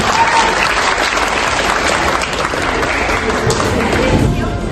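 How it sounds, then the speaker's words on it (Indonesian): Audience at a school project presentation on anti-radicalism breaks into loud, sustained applause, a dense wash of clapping hands that continues evenly throughout with a faint crowd murmur. "Beri tepuk tangan yang meriah."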